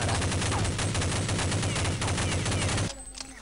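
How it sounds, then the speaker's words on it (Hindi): Rapid automatic gunfire in the video game Counter-Strike: Condition Zero, a loud, continuous burst of rattling shots lasting nearly three seconds before cutting off abruptly into a quieter background. "मुझे अपने खुद ही मेरे बंदे ने मुझे गोलियां मार दी"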